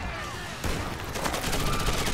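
Bursts of gunfire in the Rainbow Six Patriots video game, with a sharp loud report partway through followed by rapid crackling fire under a noisy battle backdrop.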